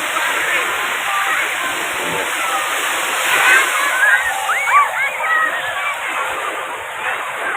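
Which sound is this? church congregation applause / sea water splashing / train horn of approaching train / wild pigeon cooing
sea water splashing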